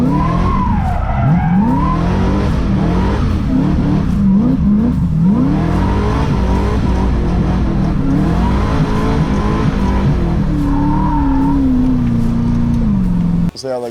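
A Nissan S14 skids and revs hard while chewing through its tyres, with a loud continuous engine drone, wavering tire squeals rising and falling, and someone talking over it before a sudden cutoff.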